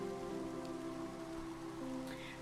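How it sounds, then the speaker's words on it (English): Heavy rain falls outside during a prolonged downpour under an active flood warning, a steady, even hiss of drops on surfaces with a faint low hum beneath and no talking. "It's raining here, and it's gonna rain for the next like 4 days pretty hard"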